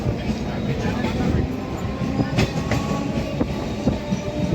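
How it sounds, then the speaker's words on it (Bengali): A Sealdah–Kalyani Simanta local passenger train rumbles along the track near Dum Dum Junction, a loud continuous roar with sharp clacks and rattles of wheels over rail joints. "আমাদের ট্রেন আজকে দিয়েছে 1 নম্বর প্ল্যাটফর্মে।"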